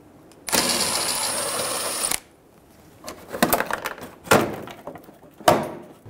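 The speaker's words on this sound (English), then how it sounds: "Using a 7mm socket, we're going to remove the bolt for the front fender liner" A 7mm socket works a bolt on the front bumper and fender liner of a 2000-2007 Ford Focus, first a sustained whirring power-tool run of about two seconds, then scattered clicks and metallic clatters close by.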